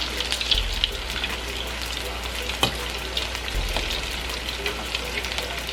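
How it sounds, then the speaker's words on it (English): Korean fried chicken pieces sizzle and crackle in hot oil during the second fry, a dense, steady bubbling hiss close by with occasional louder pops and stirring clinks. "This is my second fry of the Korean fried chicken."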